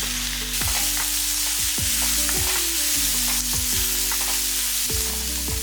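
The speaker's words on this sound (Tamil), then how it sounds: "இது எண்ணெயில் தான் பொரிக்கணும், அப்போ தான் சீக்கிரமாக வறுபடும்." Garlic fries in hot oil in a pan over a medium flame, giving a steady, close, crackling sizzle with occasional stirring and no talk.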